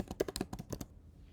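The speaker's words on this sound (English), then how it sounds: "you can start typing your task that you want to complete" Quick, light keystrokes clatter on a computer keyboard nearby as a task is typed, about a dozen taps in an uneven burst that stops after under a second, leaving quiet room tone.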